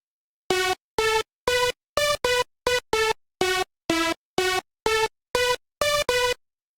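A synth plays a song melody as a steady run of about thirteen short, evenly spaced bright notes, each clipped off cleanly into silence.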